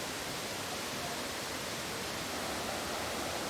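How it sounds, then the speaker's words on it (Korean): Düden waterfall in Antalya, Turkey, a 20 m fall known for its heavy flow, makes a dense, unbroken roar of rushing water that holds at the same level throughout. "안탈리아 시내에서 제일 큰 폭포인 규덴 폭포는 높이가 20m로 수량이"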